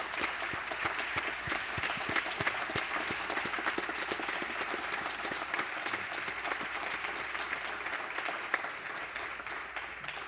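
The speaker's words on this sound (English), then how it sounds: "May I please ask that we give Treasurer Kopp one more round of applause" A room full of people gives Treasurer Kopp a long, steady round of applause at a House swearing-in ceremony, dense clapping that stays loud and even throughout with no talking.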